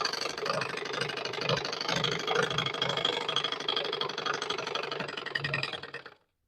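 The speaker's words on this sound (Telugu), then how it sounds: "ఇప్పుడు ఈ బ్లౌజ్ పైన మనం మళ్ళీ ఒక కుట్టు వేసుకోవాలి." A sewing machine stitches a blouse, running as a steady rapid mechanical whirring and clatter at moderate volume for about six seconds before stopping abruptly.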